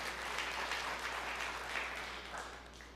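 A congregation at a church service claps together in a sustained wave of applause, dense and fairly loud, slowly easing toward the end over a low steady hum.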